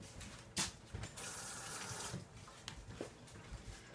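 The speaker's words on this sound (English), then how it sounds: "let me rinse my hands." Water runs from a kitchen tap while hands are rinsed during cooking, a soft steady splash with brief louder gushes and a few small knocks, close and quiet with no talk.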